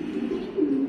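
Racing pigeons at a pigeon farm coo in a low, continuous throaty warble that stays close and steady, with no talk over it.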